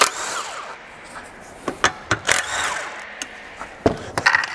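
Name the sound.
impact gun with 10mm socket on Honda GX160 engine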